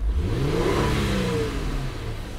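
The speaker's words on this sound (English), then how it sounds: "She revs up just fine." A 2001 Honda Accord EX V6 engine with a misfire revs steadily, its low drone rising and falling in pitch, close by and fairly loud with no talking.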